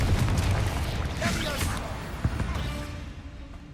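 A Confringo explosive curse from the Hogwarts Legacy video game bursts amid a dense, rumbling wash of game sound, with one sharp impact standing out before the noise slowly fades.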